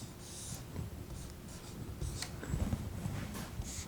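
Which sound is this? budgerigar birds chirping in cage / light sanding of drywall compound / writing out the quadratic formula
writing out the quadratic formula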